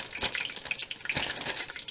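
Flour-dredged pork drops into a hot pan and fries with a continuous crackling sizzle, close and fairly loud, with small pops and bursts throughout.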